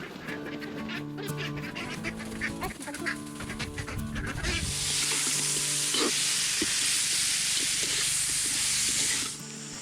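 Adobo cooks in coconut milk in a pan on a farm; ducks quack in the first half, then a loud, continuous sizzle takes over for the rest.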